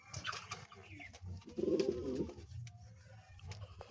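Domestic pigeons coo in a loft, a low throaty burble swelling in the middle of the clip among softer calls and faint rustling, close by with no talk.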